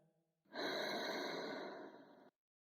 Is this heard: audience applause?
no